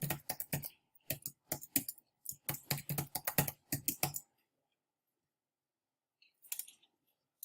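A password is typed on a computer keyboard in quick bursts of clicky keystrokes for about four seconds, then a long pause before a brief final flurry of presses, close and clear with no talk.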